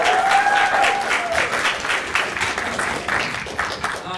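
A small improv-class audience at a showcase applauds two players coming onstage, a dense burst of clapping that holds steady, with a brief faint whistle-like tone near the start.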